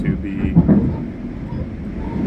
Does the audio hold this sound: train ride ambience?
yes